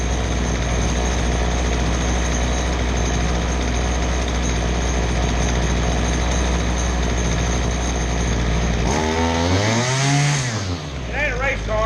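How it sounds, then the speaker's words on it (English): A small engine runs steadily and loudly during a Zama carburetor rebuild, its drone holding even before it winds down and stops near the end, with a voice breaking in over the fading engine. "That's a little bitty engine."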